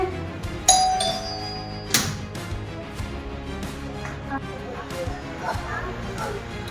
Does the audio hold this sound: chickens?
no